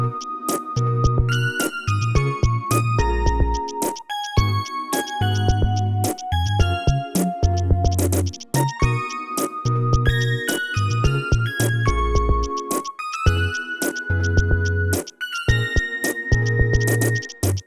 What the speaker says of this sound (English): I pitched it up so it would be kind of like a bell-like sound